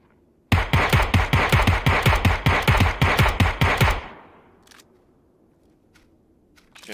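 Automatic gunfire from a PUBG gun fight: a loud, rapid, steady burst of about fifteen close shots over three and a half seconds, followed by quiet with a few faint distant clicks.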